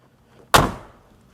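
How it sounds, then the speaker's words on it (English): A Mercedes-AMG G55 G-Wagon door slams shut with a single loud, close, solid thunk that fades quickly, with no other sound around it. "When you close it, you slam it, and it actually shuts like an old school car."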